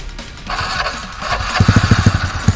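A motorcycle engine revs and putters nearby, its rumble rising into a rapid pulsing chug toward the end, with no talk over it.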